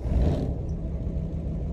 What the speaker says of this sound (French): On allume le moteur.